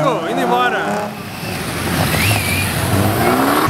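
A Peugeot RCZ sports car passes by at a street gathering of sports cars, its engine noise rising and sweeping across alongside steady background traffic and crowd noise, with another vehicle's whine heard at the start.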